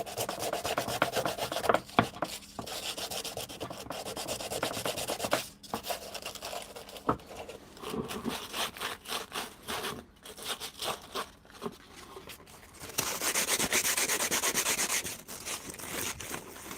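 Hand sanding with sandpaper while working on a van, a continuous rough rubbing in uneven back-and-forth strokes with brief pauses, close and fairly loud, growing denser and steadier toward the end, with no talking.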